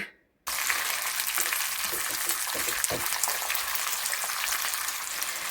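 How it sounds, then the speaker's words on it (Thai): Sun-dried pork frying in hot oil in a pan gives a steady, dense crackling sizzle close to the microphone, starting after a brief silence and running on without let-up, with a few soft clinks of a utensil. "หมูแดดเดียวนะคะทำแล้วเราก็เอาเข้าตู้แช่ไว้ค่ะ อยากจะทานเมื่อไหร่แล้วก็ออกมาทอดแบบนี้นะคะ"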